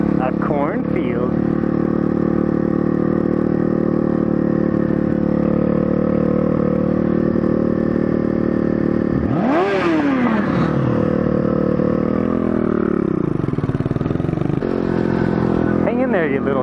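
A mini moto motorcycle rides through a neighborhood past a cornfield, its small engine droning loud and close throughout, with a revving rise and fall near the middle and wind rushing over the mic.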